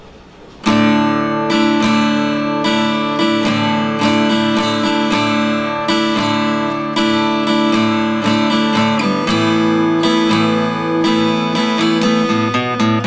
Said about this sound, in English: here's an easy riff that I like to add to the song that's in the chorus